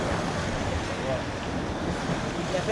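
Waves splash against sharp, jagged shoreline rocks, a steady broadband wash of surf with wind buffeting the microphone and no clear individual crashes.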